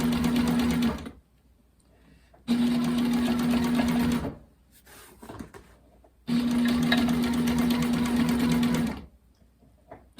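An upholstery sewing machine stitches welting shut in three loud, steady bursts of whirring, each a couple of seconds long, with brief quiet pauses between runs.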